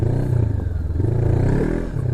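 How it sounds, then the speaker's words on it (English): An off-road vehicle's engine rumbles loudly and continuously as its tire spins, with the roar wavering as the revs change. "wonder if I can spin the tire a little bit on this"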